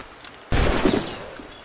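Sudden loud gunfire volley from a ship's crew in the video game Assassin's Creed Rogue, a single massive burst of many muskets firing together, then a fading rumble.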